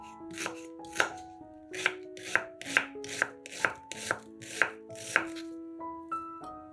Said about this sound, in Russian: Одну луковицу нарезаем кубиками.